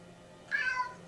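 A single short cat meow, fairly soft and close, rising then fading over a quiet background.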